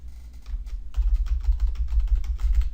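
Rapid typing on a computer keyboard entering an IP address: close, loud clusters of key clicks in quick irregular bursts, alone without talking.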